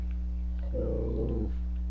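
A dog growls in a short low rumble lasting under a second, close to the microphone over a steady background hum, with no one speaking.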